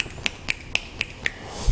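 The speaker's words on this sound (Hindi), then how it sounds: "एक हाथ से ताली नहीं बजती लेकिन मैं बजा लेता हूँ।" Six crisp finger snaps from one hand ring out at an even, quick rhythm, close and loud against a quiet room.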